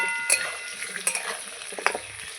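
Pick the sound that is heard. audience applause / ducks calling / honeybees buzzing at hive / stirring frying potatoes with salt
stirring frying potatoes with salt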